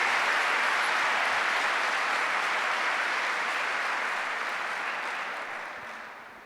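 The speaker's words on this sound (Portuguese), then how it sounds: "dá um aplauso bem forte ao Senhor Jesus" Congregation applause during a Sunday church service, a dense, even wash of clapping that holds steady and slowly fades toward the end, with no talk over it.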